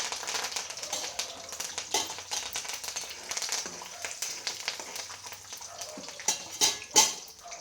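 Mustard seeds, chana dal and curry leaves fry in hot oil for upma, giving a busy spatter of sharp pops and crackles over a soft sizzle, with a few louder bursts near the end.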